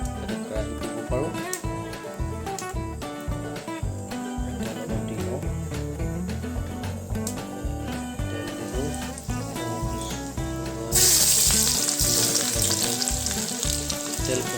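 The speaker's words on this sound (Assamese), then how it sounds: "তেল পকি গ'ল অলৰেডি মই এতিয়া নহৰু আদা দি দিছোঁ" Garlic and ginger frying in hot oil in a kadai: a steady crackling sizzle runs under continuous music and grows brighter and louder toward the end.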